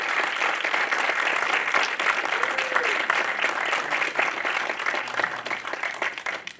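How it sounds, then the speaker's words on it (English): A seated audience at a film festival finalist showcase gives a sustained round of applause, dense and even throughout with scattered louder individual claps. "Now let's have a great round of applause for their future."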